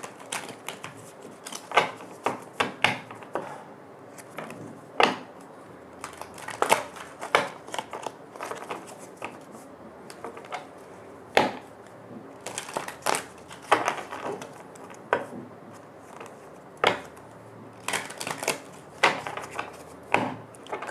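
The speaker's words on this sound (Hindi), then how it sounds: "कार्ड्स को अच्छे से शफल कर लेते हैं।" Tarot cards shuffled by hand in a quiet room, a long run of crisp irregular snaps and riffles, close and soft, with no talk.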